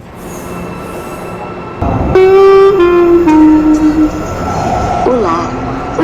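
A metro train moves through Luz station in São Paulo with a loud rumble. A long tonal horn or whistle sounds and then slides down in pitch, with rail squeals and echoing station noise around it.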